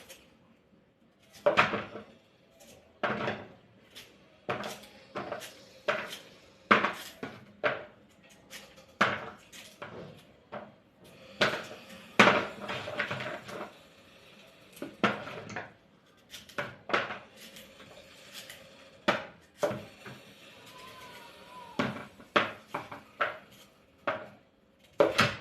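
A knife chops a shelled coconut into pieces on a hard surface at home, a series of sharp, irregular knocks and cuts close to the microphone, with short pauses between strokes and no talking.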